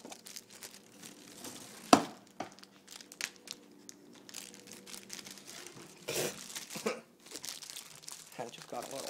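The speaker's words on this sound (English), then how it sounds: "So we'll go ahead and get a small plastic bag." Someone handles a small plastic bag nearby, with bursts of crinkling and crumpling and one sharp rustle during work on a laptop's Intel Core 2 Duo processor with thermal paste. Someone talks throughout the handling.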